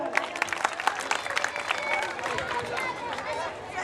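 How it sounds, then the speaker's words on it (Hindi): Loud audience applause at an annual school gathering, a dense crowd of clapping hands with scattered voices and chatter mixed in, steady and close for the whole stretch. "एकदा जोरदार टाळ्या"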